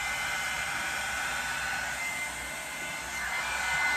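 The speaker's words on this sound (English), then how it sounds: "Now we're doing like a rough blow dry because we're gonna curl our hair." A hair dryer roars steadily and close for a rough blow-dry of hair before curling, its broad airy whoosh continuous throughout with slight dips in level and no talking.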